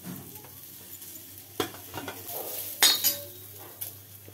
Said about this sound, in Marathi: ह्यामध्ये कांदा आपण भाजून घेऊया। कांदा जरा व्यवस्थित भाजला गेला पाहिजे, लालसर व्हायला पाहिजे।